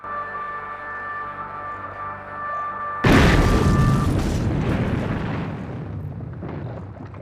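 A mechanical fish is destroyed in a sudden loud explosion, a heavy boom that rumbles and slowly fades, with a smaller burst following near the end.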